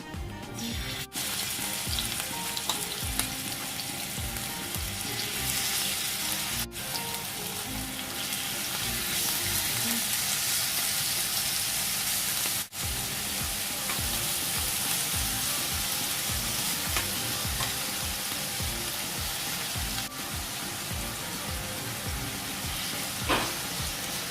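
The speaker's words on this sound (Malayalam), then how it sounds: "ഓയിൽ ചൂടാകുമ്പോൾ ചിക്കൻ ഫ്രൈ ചെയ്തെടുക്കാം." Marinated chicken for homemade shawarma fries in hot oil in a pan, a continuous close sizzle with crackling pops and repeated scraping stirs, broken by a few sharp clicks or knocks along the way.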